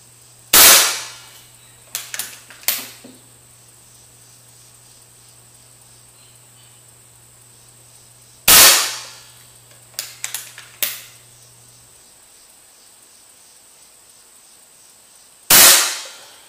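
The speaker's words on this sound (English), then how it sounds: "So I'm just going to fire this last shot just to get out of here." An FX Dreamline air rifle fires 24-grain slugs in three loud, sharp shots spaced several seconds apart. Between the shots come quieter mechanical clicks and clacks of cycling the action.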